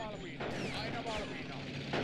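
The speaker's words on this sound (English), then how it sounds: "Oh, there goes the AT rifle on it." Anti-tank rifle fire aimed at a half-track in a World War strategy game, sharp gunshot cracks mixed into busy battle noise of other weapons, with commentary voices talking over it.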